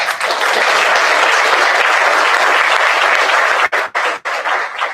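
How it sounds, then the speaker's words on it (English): An audience at the 2026 California Green Ribbon Schools recognition ceremony gives a loud, dense round of applause that holds steady, then breaks off abruptly into a few scattered final claps. "So that deserves a round of applause."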